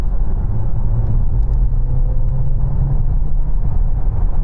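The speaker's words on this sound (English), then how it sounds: "I'm going to floor it." A DS9 hybrid sedan accelerates at full throttle, heard as a loud, steady low drone of engine and road noise from inside the car that stays constant throughout.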